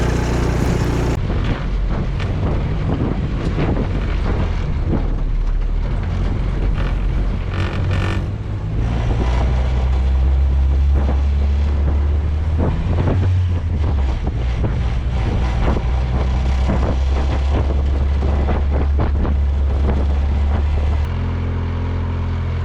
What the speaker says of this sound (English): First test drive in the Miata after everything's been done